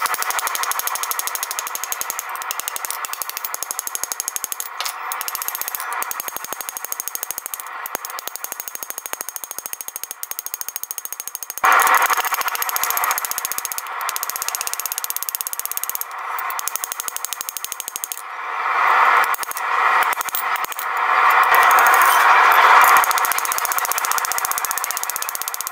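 Hammering a nessmuk knife blade tip at the forge, heard as a loud, steady metallic working noise with sharp bursts and a rising roar in the second half, without speech.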